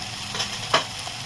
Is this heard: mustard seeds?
yes